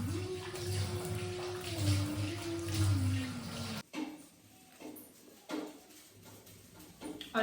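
Running water pours steadily over poha (flattened rice) as it is washed, with a continuous rush and a faint hum, then stops, leaving a few soft clicks and small handling noises.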